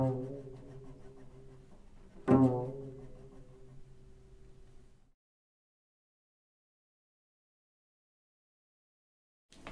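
A low bowed double stop played with the thumb, two steady pitches ringing for a few seconds, cut by a brief scrape, then stops into silence.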